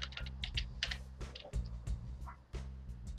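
Typing on a computer keyboard while editing text in Adobe Illustrator: bursts of quick close key clicks with short pauses between runs, no voices.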